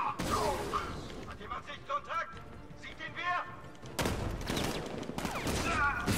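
Enemies firing guns in Batman: Arkham Knight, a dense crackle of rapid gunfire and combat noise running under someone talking in German, growing louder and busier toward the end.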